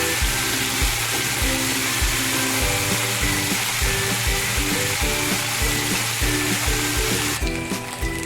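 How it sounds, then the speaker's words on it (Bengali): Prawns frying in oil in a wok, a loud continuous sizzle up close, broken by a regular rhythmic stirring or scraping pulse throughout. "চিংড়ি মাছটাকে আমি ভেজে নিচ্ছি ভালো করে।"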